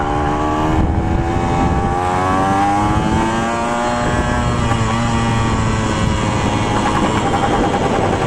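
A Kawasaki KE100 motorcycle engine drones loudly and continuously while riding, its two-stroke pitch rising and falling slightly with the throttle, close and steady throughout.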